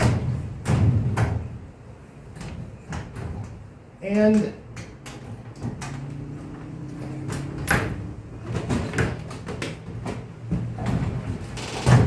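Old drawers are worked open in a boathouse, with scattered knocks, wooden thumps and sliding scrapes, plus one short creaking squeal partway through, while a person talks nearby.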